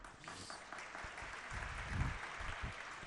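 An audience claps at a Jain religious discourse by Acharya Vidyasagar in Shirpur, Maharashtra. The applause is faint and distant, a short patter lasting a few seconds.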